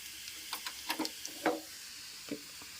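Fried onions tipped into hot dal give a soft, faint sizzle with a few light clicks and taps of a utensil against the pot, scattered and quiet.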